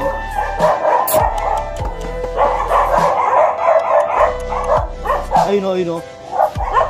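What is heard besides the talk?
Rottweiler dog barking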